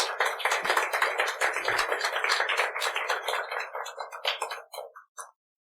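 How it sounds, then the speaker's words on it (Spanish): A church congregation bursts into loud, sustained applause with dense clapping that holds steady, then thins out and stops with a few last claps. "Dale un aplauso."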